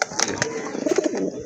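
A Madrasi Golla pigeon coos close by, a short series of low, rounded coo notes amid light rustling and background noise.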